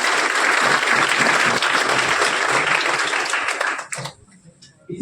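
Audience applause for students at a Galaxy Classes school event, dense steady clapping from a crowd for about four seconds before dying away to near quiet.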